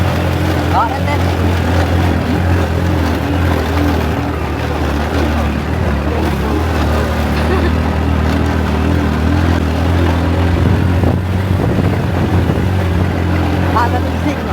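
A motorcycle engine drones steadily and loudly throughout a ride along a farm track toward a bean field, with wind buffeting and a voice talking over the constant hum.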